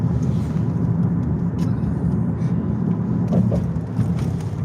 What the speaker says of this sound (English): riding along in the Camaro